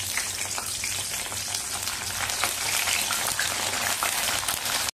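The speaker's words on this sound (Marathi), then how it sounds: "आता गरम तेलामध्ये आपण मिरच्या पण तळून घेऊया." Green chillies frying in hot oil for a fasting-style batata vada meal, a dense, continuous crackling sizzle with fine spitting pops throughout, close and steady, with no voices.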